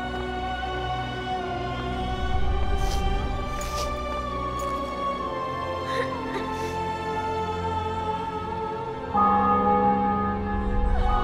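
Church bells in the video game The Witcher 2: Assassins of Kings ring out in a steady, sustained peal with layered tones, loud and close, a deeper swell joining near the end.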